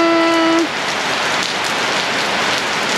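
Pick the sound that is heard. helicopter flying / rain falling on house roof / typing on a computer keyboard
rain falling on house roof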